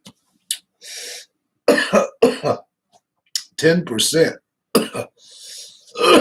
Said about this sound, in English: that's why I'm coughing. That's a beer down the wrong pipe.